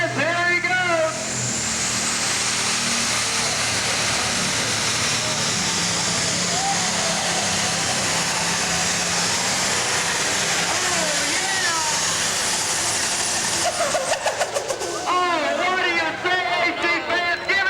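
Diesel super stock tractor pull with four turbochargers: a loud, sustained roaring engine with turbo whine, steady and close, rising in pitch toward the end as the pull finishes, with crowd noise underneath.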